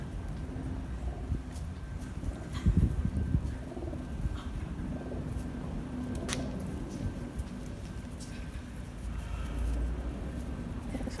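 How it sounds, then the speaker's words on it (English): Pigeons scuffling and cooing at a London house garden in Chelsea, soft low coos and fluttering bursts close by over steady outdoor background noise, with a louder flurry partway through. "Fighting pigeons."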